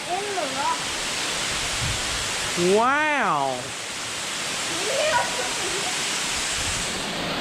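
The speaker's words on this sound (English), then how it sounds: "We're finally at the waterfall." Broad steady rush of a waterfall reached at the end of a long mountain hike, constant throughout, with a few people talking and exclaiming over it.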